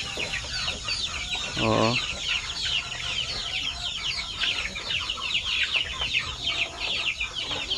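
Two-month-old Basilan chickens cluck and chatter busily nearby, a flurry of short high calls, with a brief low vocal sound from a person among them.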